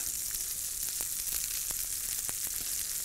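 Potatoes fry in a hot pan with a steady, bright sizzle and scattered small pops and spits throughout, close and continuous, with no voices.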